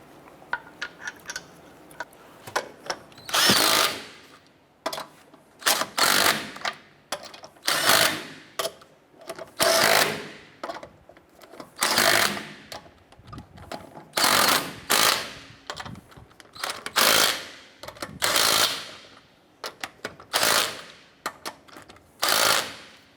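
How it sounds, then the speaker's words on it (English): Wheel lug nuts being run down and snugged on a 2008-2012 Honda Accord, heard as repeated short bursts of ratcheting, clicking mechanical work close by, with brief pauses between each burst and no talking. "Get our lug nuts all started by hand, and we'll go ahead and get this snugged down."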